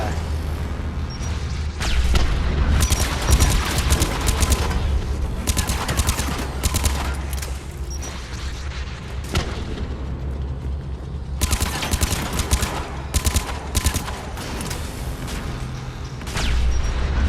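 Heavy sustained gunfire in Mass Effect 3 during a Quarian mission, with dense bursts of automatic weapons and booming impacts across the whole stretch, loud and continuous with brief lulls, while a voice speaks now and then.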